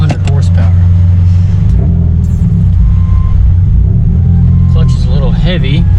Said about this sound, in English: I believe this has the 2-liter boxer engine in it.